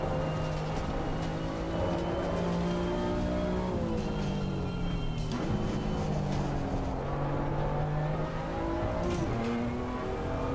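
BMW M2 CS race car laps a wet Snetterton circuit, its engine droning steadily from onboard with pitch rising and dropping through gear changes and braking, loud and continuous.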